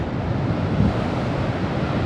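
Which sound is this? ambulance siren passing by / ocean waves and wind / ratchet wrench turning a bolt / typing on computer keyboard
ocean waves and wind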